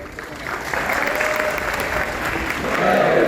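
Dense applause fills a memorial gathering hall, a continuous wash of many hands clapping at moderate loudness that swells slightly near the end.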